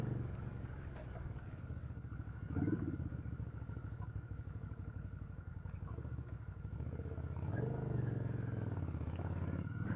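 A VOGE CU625 motorcycle picks up speed on the road, its engine a steady close rumble that swells briefly around the third second and again near the end, with wind noise throughout.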